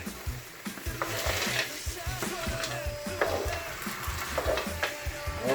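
Frozen okra sizzling in a gumbo pot as it is stirred in, a steady crackling fry with spoon scrapes and pot knocks, close up with faint voices in the background.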